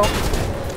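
A short, loud burst of gunfire from a weapon in Mirror's Edge, dense and close, with no talk over it.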